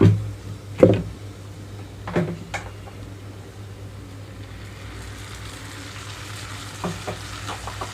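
Onions fry in a pan as tomato puree goes in, giving a low steady sizzle with a few clattering knocks of a utensil early on, close and unaccompanied by speech.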